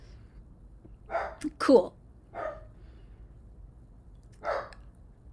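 A pet dog called Fork lets out several sharp barks, two close together and more a couple of seconds apart, loud against a quiet room with a brief word spoken.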